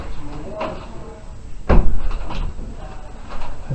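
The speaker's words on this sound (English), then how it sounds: "I'm just going to close the door." A door swings shut indoors with a single solid thump near the middle, set against room noise and a voice talking before and after.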